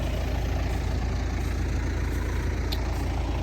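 A farm tractor idles nearby with a steady, continuous low engine drone that holds even from start to end, and no one speaks over it.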